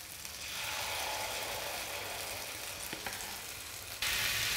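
Fasting-style appe batter sizzling in a hot appe pan, a dense, steady frying hiss that holds throughout and gets slightly louder near the end, close and continuous.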